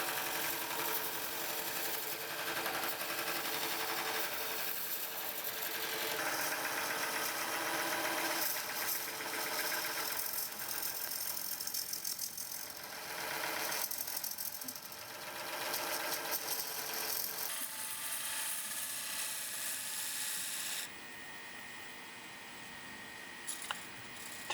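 A wood lathe spins a large pine segmented ring while a tool rounds off its corners, giving a continuous whirring hum with rough scraping texture that shifts throughout, then eases near the end.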